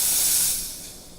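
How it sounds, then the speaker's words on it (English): An espresso machine's steam wand purges with a loud, steady hiss that fades slightly toward the end of the short burst, with no voices. "First, purge the steam wand."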